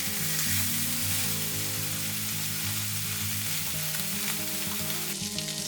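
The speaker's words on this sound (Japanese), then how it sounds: "今回のハンバーグのように油が出る食材を焼く場合はそのまま入れて OK です。" A hamburger steak fries in a Fissler stainless steel pan without added oil, producing a loud, dense, continuous sizzle with fine spattering crackles over the whole stretch and no talking.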